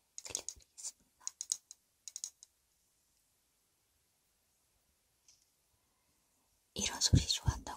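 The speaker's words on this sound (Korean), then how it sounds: "뚜껑 열고 닫는 소리를 들려드리겠습니다." Cosmetics container lids opened and closed up close, making sharp little clicks and snaps in quick bursts, then a long quiet gap and a louder cluster of clicks at the end.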